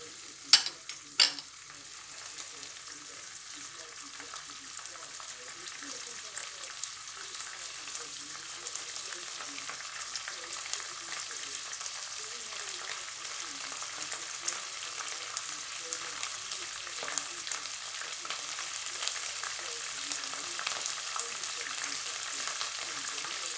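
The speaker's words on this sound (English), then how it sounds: "A little bit like Keith Floyd, I'll just let that sizzle away a little bit." Thai red curry paste fries in a little oil in a pan, giving a steady, fairly quiet sizzle with occasional stirring scrapes and a couple of sharp knocks near the start.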